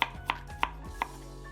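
Ginger roughly sliced with a knife on a cutting board, four crisp evenly spaced chops close up, with no talk.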